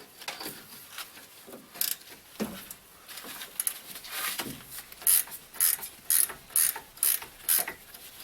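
A hand ratchet tightens a ball joint nut on a 2002 Chevy 2500HD truck. Scattered metallic clicks and handling noises come first, then a run of six or seven crisp, evenly spaced ratcheting bursts, close and clear.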